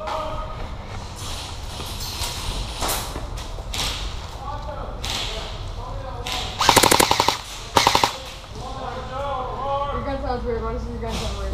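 Short rapid bursts from an airsoft electric gun during a game in Tulsa, two clear rattling volleys of fast shots close by, heard beneath steady outdoor chatter and other people talking.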